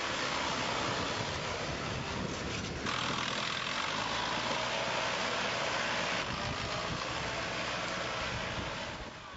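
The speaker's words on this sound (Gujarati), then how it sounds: "જરા તમે પણ જુઓ કેવી રીતે ટ્રેક્ટરને ન માત્ર હંકારીને પણ આગળના બે પૈડા ઊંચા કરીને ટ્રેક્ટરને ગોળ ગોળ ફેરવીને" A tractor engine drones steadily as an 8-year-old drives it in stunts, lifting the front wheels and spinning in circles. The engine is heard at middling distance with wind noise and no talk.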